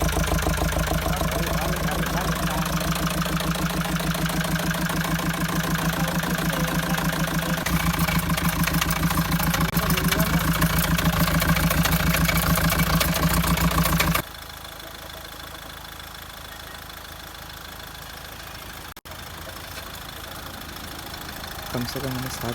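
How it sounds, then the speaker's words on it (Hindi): Mahindra XUV500 diesel engine idling before an overhaul, a steady, loud mechanical rumble with a ticking knock; the sound drops sharply in level partway through and stays quieter to the end. "इंजन बनाने से पहले हमारे इंजन की कुछ नॉइस ऐसी थी।"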